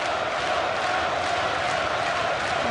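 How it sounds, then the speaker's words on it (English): A boxing arena crowd roaring for Welsh champion Joe Calzaghe in his fight against Sakio Bika, a dense continuous wash of cheering and shouting that stays loud and even throughout. "The crowd trying to raise the Welsh champion."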